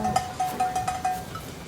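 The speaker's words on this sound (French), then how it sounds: "Et les cloches des vaches sonnent." Cow bells clank in a loose, uneven rhythm on a farm, a series of light metallic rings that fade out toward the end.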